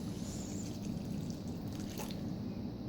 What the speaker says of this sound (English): I'm going to add my boiling water